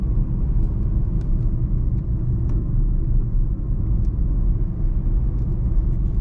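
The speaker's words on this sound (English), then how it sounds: "we're driving through the park like lazy people" A car rolls through Golden Gate Park in San Francisco, making a steady, loud, low road and engine rumble with a few faint ticks on top.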